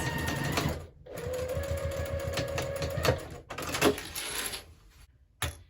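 Sewing machine stitching the seam of a scrappy zipper pouch made from jelly roll strips, a close, steady rattling run with brief pauses and restarts.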